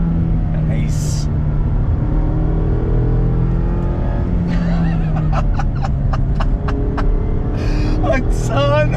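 A 2021 Mazda MX-5 Miata RF Club sports car engine roars continuously and climbs through its revs under a person's laughing and talking, with tire and road noise throughout.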